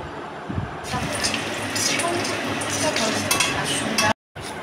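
Cumin seeds, bay leaves and whole garam masala sizzle in hot oil in a pan while being stirred, giving a steady bright hiss that cuts out briefly just before the end.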